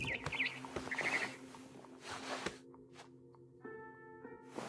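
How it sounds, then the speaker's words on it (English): Bright barn swallow chirps in a video game flutter in the first second, then give way to soft synthetic tones and a low steady hum. "heard chirping outside my window. It was a barn swallow going back to her nest."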